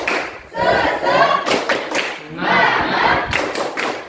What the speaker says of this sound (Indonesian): Baik, kita tepuk semangat dulu ya.